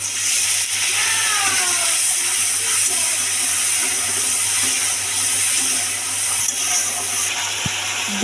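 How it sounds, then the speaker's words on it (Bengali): Water splashed into a hot pan of lightly fried mustard for a fish mustard curry, producing a continuous steamy hiss and bubbling, fairly loud, with a low hum and an occasional clink. "একটু পানি দিয়ে দেবো।"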